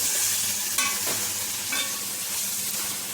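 Tomatoes sauteing in a pan for chicken sukka, giving a steady close frying sizzle with a couple of brief stirring scrapes and no talking.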